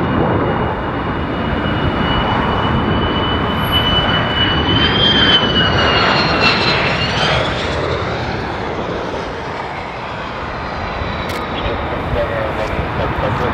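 Two F-15 Eagle fighter jets on approach to land at RAF Lakenheath, a loud continuous jet engine roar with a rising whine partway through, holding steady throughout.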